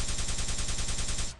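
Rapid automatic gunfire in a video game on the SDC-UK map, a loud continuous burst of evenly spaced shots that cuts off abruptly near the end.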